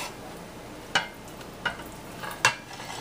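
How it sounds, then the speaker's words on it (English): A spoon stirs tomato paste into a beef stew in a pot, three distinct scraping strokes spaced about a second apart over a quiet simmering background, close but soft, with no talking. "I'm going to give that all a stir, get it dissolved"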